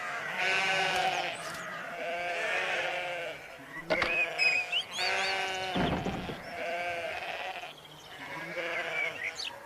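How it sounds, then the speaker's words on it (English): Sheep in a field bleat repeatedly, several overlapping calls in a loud, close chorus of wavering baas with brief pauses between them, and no one speaking. "A field full of sheep."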